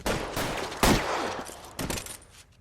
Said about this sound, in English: 211 and shots fired.